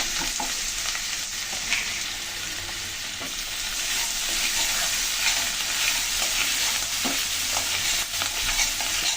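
Onion and garlic paste frying in hot oil for prawn kalia, a dense continuous sizzle with light scrapes of stirring throughout, loud and close, with no talking.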